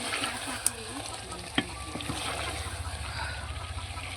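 Chicken curry with liver, made with home-raised country rooster, being stir-fried down (kosha) in a pan: a steady broadband sizzle with a couple of sharp utensil clicks against the pan, close and continuous.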